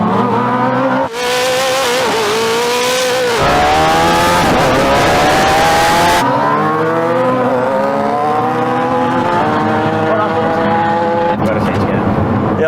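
A Koenigsegg Jesko hypercar and a tuned Suzuki Hayabusa motorcycle launch in a drag race, engines roaring loud and close with rising, layered revving pitches held through the gears, with voices under the noise.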